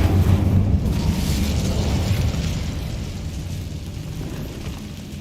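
A Confringo blast spell in Hogwarts Legacy lands as a deep, booming burst, its heavy low rumble rolling out and slowly fading over several seconds, with no other sound around it.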